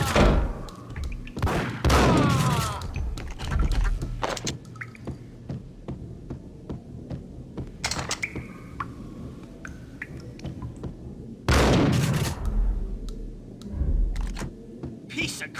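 Gunfire from Max Payne comes as several sharp, loud bursts spaced irregularly, with short pops and clicks in between, mixed with shouted game dialogue.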